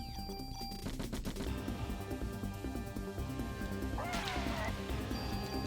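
Submachine gun fire in the PlayStation game Parasite Eve during a boss fight: rapid bursts of clipped shots repeat over steady game music and effects, with a brief crashing hit near the end.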